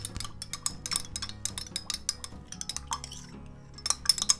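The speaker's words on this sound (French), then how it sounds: "vous remuez bien" A hair balm mixture is stirred in a bowl with a utensil, giving quick repeated clinks and scrapes against the bowl, close and fairly steady, with no one talking.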